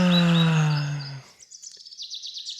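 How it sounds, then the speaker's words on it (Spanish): Small birds chirp and trill outdoors in the countryside, giving quick repeated high tweets at moderate volume. They follow a sustained tonal voice-like sound that fades out after about a second. "disfrutar del buen clima y escuchar a las aves cantar"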